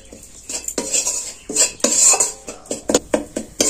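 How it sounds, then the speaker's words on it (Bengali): Flour being fried and stirred in a metal pan, repeated close clinks and scrapes of a spoon against the pan in an irregular rhythm over a soft sizzle. "এবার ময়দাটা দিয়ে দিচ্ছি, দিয়ে আমি এটা অল্প আছে এটা ভেজে নেব"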